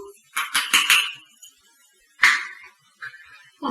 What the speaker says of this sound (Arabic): وغادي نخلطو هاد المكونات مزيان